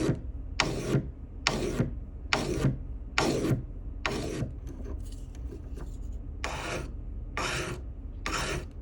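Rhythmic hand filing of a 3D-printed platinum cuban link ring, about a dozen close rasping strokes in a steady back-and-forth pattern, with a softer scraping stretch in the middle.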